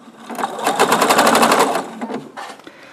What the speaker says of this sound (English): I like to sew with my needle down.